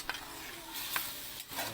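Pork added to a pan with browned onion and garlic for a Filipino menudo, sizzling and frying steadily with stirring scrapes throughout, close up and with no talking.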